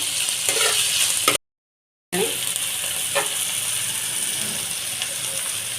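Chopped tomatoes stirred and fried in a pan for masala dosa filling, a close sizzle with rough scraping and ratcheting spatula strokes, cut by a brief dead silence partway through.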